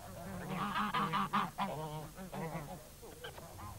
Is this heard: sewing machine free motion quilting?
no